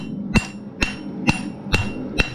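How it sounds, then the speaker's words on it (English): Five sharp hammer blows strike a railroad spike being forged into a knife, landing at an even rhythm about half a second apart, each ringing briefly with a metallic tone, close and alone. "I'm not kicking my hammer, I'm not doing this. I'm hitting and then hitting and pushing the material down."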